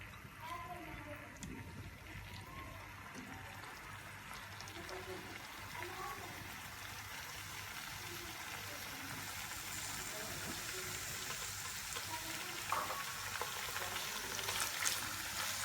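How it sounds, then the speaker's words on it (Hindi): Chicken pieces fry in hot oil over a medium flame, giving a steady, moderately quiet sizzle and crackle throughout, with a voice talking over it. "और इसको अब हम थोड़ा फ्राई कर लेते हैं मीडियम फ्लेम पर।"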